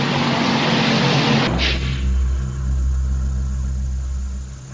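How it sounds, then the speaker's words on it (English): NASCAR stock cars racing at Charlotte in the 1998 Winston roar past loudly in a dense engine wash, then settle into a steady droning rumble of several cars heading down the back straightaway. "Here comes Jeff Gordon on the inside as they head down the back straightaway"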